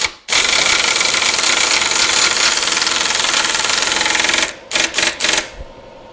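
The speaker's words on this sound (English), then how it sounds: "I willed that compressor on with my mind" Air compressor in a garage where a 2.5L engine is going back into a TJ Wrangler, roaring loud and steady for about four seconds, then stuttering through several short bursts before cutting off.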